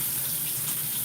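Water running steadily from a tap during a home cooking session, a constant close hiss and splash with no break and no voices.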